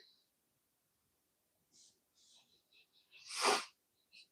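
A single sharp human sneeze bursts out near the microphone, preceded by faint rustles and breaths, with a soft click after it.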